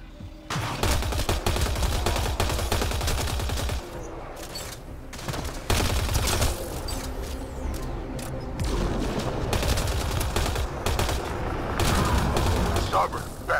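Sustained gunfire in a Mass Effect Andromeda firefight: dense, rapid automatic bursts and loud blasts run almost without pause, with voices and combat shouts mixed into the din.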